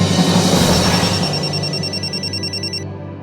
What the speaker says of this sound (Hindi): मैं योगेश को फोन लगाता हूँ।